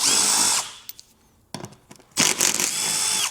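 A power drill runs in bursts to back out 10mm bolts under the front of a 2025 Jeep Grand Cherokee, loud whirring spurts split by quieter clicks and handling noise, nearby and without talk.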